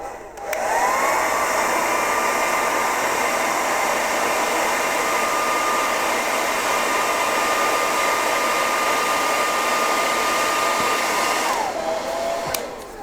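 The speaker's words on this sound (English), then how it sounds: "I'm going to put a hairdryer on it and melt this wax into the wood." A hair dryer switches on and blows with a steady high-pitched whine and airy rush, running alone for about eleven seconds before switching off, melting wax into carved wood.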